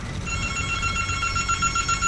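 A phone rings in a steady, continuous electronic trill during Serious Sam HD: The First Encounter co-op play, loud and close, with no talk over it.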